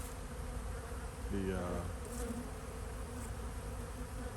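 Honeybees buzz steadily and loudly while being cleared from hive supers at an apiary. The dense swarm drone runs throughout, and a brief voice rises over it near the middle.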